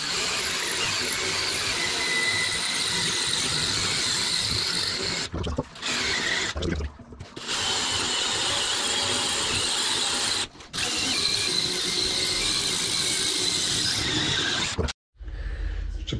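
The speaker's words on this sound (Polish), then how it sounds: "jak się będzie wierciło w tej kurde płytce" A power drill grinds steadily into ceramic tile during a WC installation in a technical room. The continuous, loud, rough whirring is close by and broken by a few short pauses between bursts.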